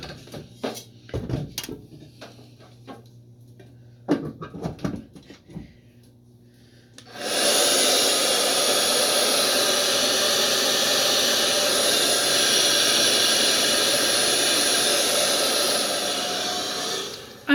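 A hair dryer drying freshly colored hair switches on after some quiet handling noises and then blows steadily and loudly with a constant whooshing roar for about ten seconds.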